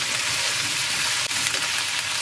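Black bean paste sizzles and crackles in hot leftover oil as it is stir-fried, a steady dense frying hiss close by with one brief scrape of stirring, no talking.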